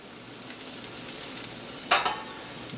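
Garlic frying in a pan for chicken Marsala, a soft steady sizzle throughout with a brief louder crackle and stir near the end, close and with no talking.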